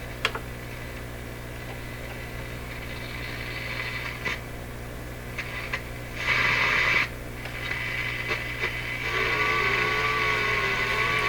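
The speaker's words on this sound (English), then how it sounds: "that sound is a whole bunch of ham radio guys" Shortwave radio hiss and hum on an Electrohome Serenader 9A62-S receiver carry faint, garbled ham radio transmissions, with bursts of static, brief clicks and a warbling tone toward the end.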